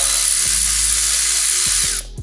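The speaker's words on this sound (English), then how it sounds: "we're going to go ahead and remove the brake line mounting brackets" Power tool spinning out a brake line mounting bracket bolt on a Lexus GX460 during a suspension install, a loud steady whir lasting about two seconds and then cutting off abruptly.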